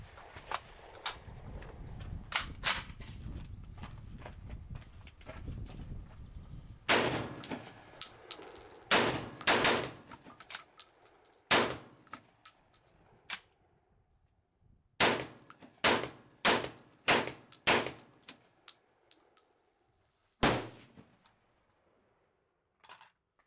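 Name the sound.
Saiga 12 shotgun firing on gas setting 2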